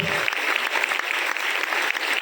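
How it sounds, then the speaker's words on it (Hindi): Loud, sustained applause from a crowd at an award ceremony, dense clapping throughout. "उन सब के लिए जोरदार तालियां बजा दो"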